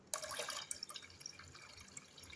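Water poured into a vessel of buttermilk for Indian masala buttermilk, a close trickling, splashing stream that starts abruptly and settles into softer dripping, with no talking.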